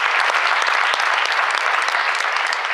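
Audience applause for a guest being introduced at a live literary stage event, steady dense clapping at full volume filling the room with no voices on top.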